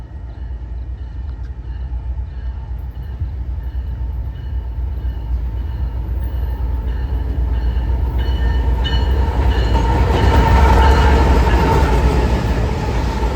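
Norfolk Southern locomotive NS 8105 leads a freight train past on a rail line in the Chicago area, a heavy diesel rumble and wheel roar that grows steadily louder and nearer over thirteen seconds.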